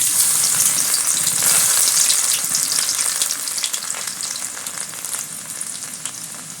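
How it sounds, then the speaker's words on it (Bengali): Garlic hits hot, smoking oil while cooking egg tadka, giving a loud, steady sizzle and crackle that settles slightly over several seconds, heard close with no talk. "তেলটা গরম হয়ে গেছে বধুরা ধোয়া উঠছে সবার প্রথমে আমি দিচ্ছি রসুন"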